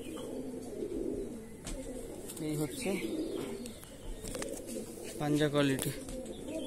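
Andhra Madrasi pigeons coo softly in a steady low chorus close by, while someone talks briefly over the birds in a few short phrases.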